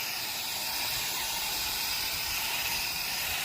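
A Viper foam gun sprays coil cleaner foam in a steady, close, unbroken hiss that holds at a constant level throughout.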